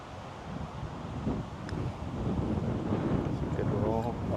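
Wind gusts across Tiburon Golf Course, a rough, continuous buffeting roar against the microphone that swells slightly louder toward the end, with faint voices underneath.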